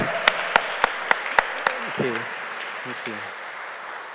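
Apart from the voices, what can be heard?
audience round of applause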